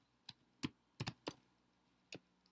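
A few sparse, separate keystrokes on a computer keyboard while HTML code is typed, quiet and close, with irregular gaps between the clicks and no talking.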